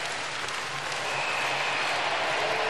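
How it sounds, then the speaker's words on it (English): Ice hockey arena crowd at a women's world championship gold medal game cheering as the period clock winds down, a dense continuous roar with applause, loud and sustained without commentary. "Listen to this crowd when this clock winds down."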